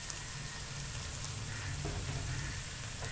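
Mutton karahi sizzles and fries in a pan over a high flame, a close, steady crackling hiss with occasional sharper pops and no one speaking.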